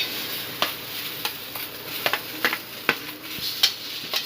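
Chopped onion goes into a hot pan for chana masala and sizzles in oil, with a light steady crackle and several sharp scraping clicks from a spatula stirring at close range.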